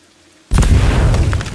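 A C4 charge detonates in the video game Aliens: Dark Descent: a loud, sudden blast follows a quiet moment and then rolls on as a sustained, rumbling roar.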